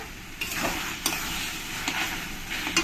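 Mushrooms fry in oil for mushroom masala, a steady close sizzle broken by several scraping stirs of the spoon against the pan.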